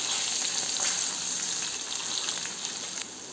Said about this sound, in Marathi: तेलामध्ये आपण कॉर्न सोडूया. छान तळून घ्यायचे तेलात आपल्याला क्रिस्पी होईपर्यंत.